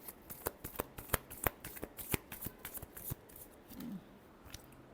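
Tarot cards are shuffled in a quiet room, a rapid run of sharp papery riffs and taps, close and fairly soft, with no talking.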